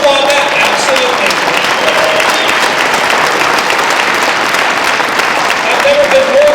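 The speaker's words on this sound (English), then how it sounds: "you should applaud that, absolutely" A rally crowd at a Convention of the States event breaks into dense, sustained applause, steady and loud from start to finish with no pause in the clapping.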